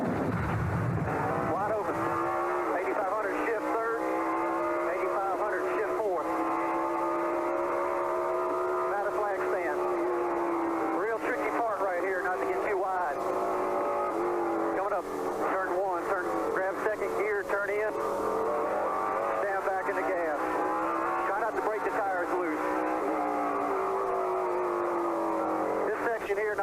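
Race car engine from the NASCAR 97 video game on a fast lap of Sears Point, Sonoma, revving loud and continuous with repeated upshifts and rising pitch sweeps, under a speaking voice throughout.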